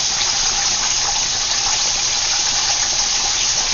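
Canola oil streams steadily into a cooking pan with a loud, continuous rushing pour that holds unbroken from start to finish.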